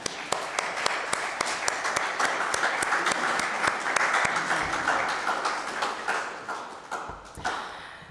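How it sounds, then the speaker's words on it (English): A congregation at a Unitarian Universalist Sunday service applauds, with sustained clapping from many hands that fills the room and then tapers off toward the end. "I think we want to applaud"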